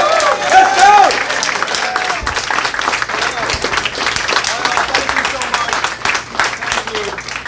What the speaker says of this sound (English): any room I go into, they start applauding